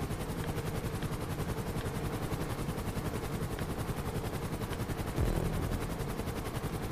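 A helicopter in GTA 5 Online drones steadily throughout with a dense, pulsing rotor chop, loud and continuous, with a brief heavier thump near the end and no talking over it.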